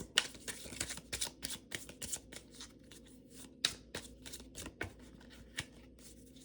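Tarot cards are shuffled by hand in a quiet room, a steady run of soft, papery riffles and slaps that comes in uneven bursts, close and faint.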